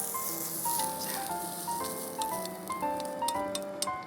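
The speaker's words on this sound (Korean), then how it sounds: "당근은 소금을 살짝 뿌려서 볶아주세요" Carrots stir-fried with a little salt in a frying pan, a soft continuous sizzle under steady background music.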